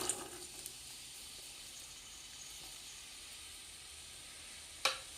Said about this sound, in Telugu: ఆయిల్ హీట్ ఎక్కిన తర్వాత సన్నగా చీరుకున్న ఉల్లిపాయలు వేసుకుంటున్నానండి